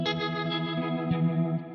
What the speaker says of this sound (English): So you can hear the tremolo where it's almost like cutting the signal slightly. But then you've also got that rotary where it almost brings in like a chorusy sort of sound.